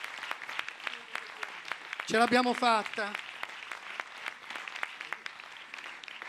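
Audience applause at a film festival closing and awards ceremony: steady crackling clapping from a sizeable crowd throughout, with a voice briefly speaking over it midway.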